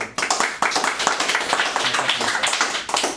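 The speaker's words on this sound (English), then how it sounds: "So let's all give a round of applause for Clipper." A small group applauds a speaker at a Home Assistant talk, brisk overlapping hand claps at close range, fairly steady with a few louder individual claps.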